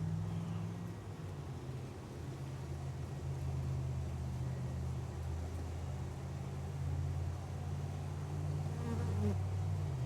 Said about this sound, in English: There's some pheromone fanning going on there.